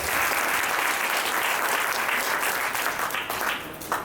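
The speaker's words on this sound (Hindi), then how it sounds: "हम चाहते हैं उनके लिए भी जोरदार तालियां सकते" A large audience at a corporate industry event in Barabanki bursts into loud, dense applause that holds strongly before thinning slightly toward the end.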